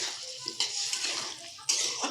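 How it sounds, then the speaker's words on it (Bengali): Water mixed from a poppy-seed paste bowl splashes and sizzles into a hot pan of aloo posto, giving a brief close hiss with a small clatter of the bowl against the pan. "পোস্তুর বাটিতে যে লেগেছিল ওটা সামান্য পরিমাণ জল মিশিয়ে ওটা দিয়ে দেওয়া হলো।"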